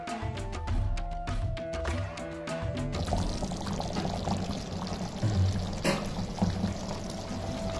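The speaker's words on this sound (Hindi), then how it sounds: "अब मैं इसका ये थोड़ा सा बचा हुआ पानी जो है ये भी इसके अंदर ऐड कर रही हूँ।" Leftover water pours into a cooking pot of dal and yogurt curry being simmered, a steady close splashing pour after an opening stretch of clinks and tones, with a sharp knock partway through.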